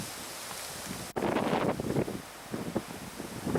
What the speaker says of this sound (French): Malgré le vent qui se lève sur le lac O'Higgins